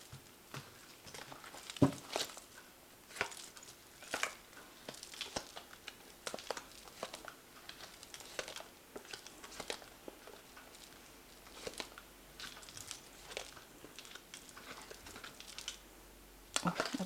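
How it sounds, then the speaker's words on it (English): Tarot cards from the Fountain Tarot deck being shuffled and drawn, making soft, close, irregular flicks, taps and slides of card stock in a quiet room, with no talking. "I'm just going to draw some cards from the Fountain Tarot for the main read"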